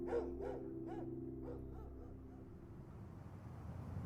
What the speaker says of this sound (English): that's when she heard that dog start barking at something in the living room